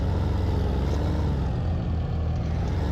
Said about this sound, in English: I think he's parking the tractor there